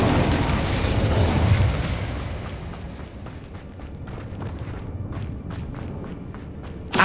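Incendio fire spell cast in Hogwarts Legacy: a loud, dense whooshing burst of flame roars at first, then thins into a steady crackling rumble. Sharp ticking clicks follow, and a brief pop comes at the very end.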